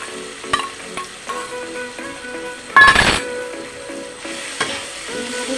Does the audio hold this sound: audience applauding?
no